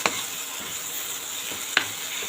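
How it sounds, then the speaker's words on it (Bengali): Spicy paste fries in hot oil for a mushroom curry, a steady close sizzle with occasional scraping spatula strokes, two sharper scrapes standing out; no voices. "মশলাটা খুব ভালো করে কষিয়ে নেব"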